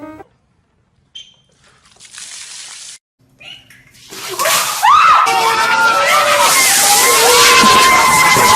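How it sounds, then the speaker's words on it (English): Buckets of water being dumped over people for the ice bucket challenge: quiet moments, then a rising rush of heavy splashing and sloshing that carries on loudly to the end, with voices mixed in. "let's count how many buckets of water have been dumped"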